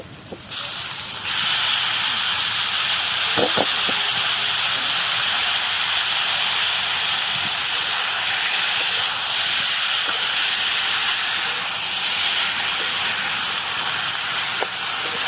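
Taro dropped into a hot pan sets off a loud, continuous steaming hiss and sizzle. It starts abruptly and stays steady and close with no talking.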